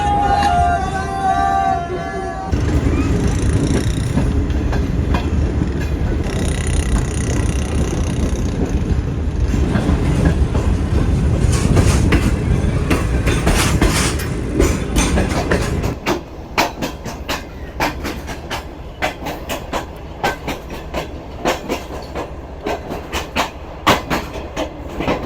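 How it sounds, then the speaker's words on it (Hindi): A train rolls through a congested stretch near Dadu, kicking up dust and dirt, its steady rumble and clickety-clack of wheels on rail joints loud and close throughout, with a faint tone early on and background hubbub. "मट्टी धूल उड़ाते हुए ट्रेन यहाँ से निकल रही है।"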